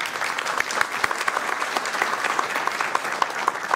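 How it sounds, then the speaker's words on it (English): An audience applauds at a Hispanic Heritage Month event welcoming the Consul General of Mexico, a dense, steady wash of clapping from many hands throughout, with no talking over it. "Give him a big round of applause."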